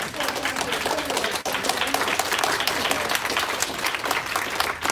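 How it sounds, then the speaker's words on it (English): An audience applauds a lecture with steady, dense clapping for several seconds, loud and sustained throughout. "Warm round of applause for this wonderful lecture."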